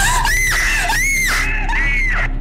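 A woman screams repeatedly at Lucedio Monastery, three loud, high wailing cries in quick succession, close and piercing over a low hum.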